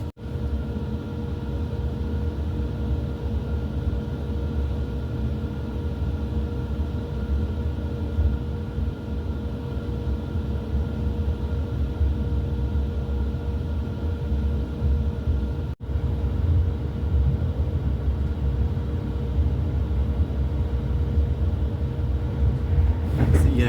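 A passenger train rolls steadily along the Epsom Downs branch line, a continuous low rumble and rail noise heard from on board, with a brief jolt midway and no one talking.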